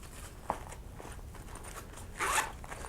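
Zipper on the outer pocket of a LifeVenture ticket wallet being pulled: a short zip near the start, then a louder, longer rasping zip toward the end, close and fairly quiet with no talk.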